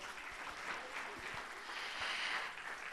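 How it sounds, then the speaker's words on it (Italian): Audience applause, a steady, fairly distant wash of many hands clapping that swells slightly midway, quiet overall and with no talk over it. "a loro un grande applauso."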